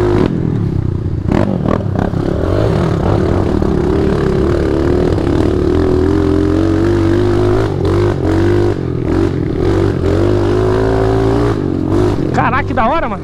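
Loud, steady engine roar of off-road vehicles (quad bike, motorbike, Jeep and UTV) revving on a trail, with rattling and clattering bursts, up close and continuous throughout.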